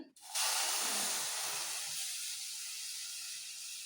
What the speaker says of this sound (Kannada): ಒಂದು ಕಪ್ ಹಾಲು ಹಾಕ್ತಾಯಿದ್ದೀನಿ